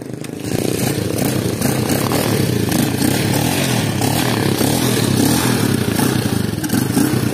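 Motorcycle engines drone and rev loudly and steadily at a flooded river crossing in Bunga, Mambusao, Capiz, as locals help push the bikes through the water, with clattering and scraping mixed into the continuous rough engine noise.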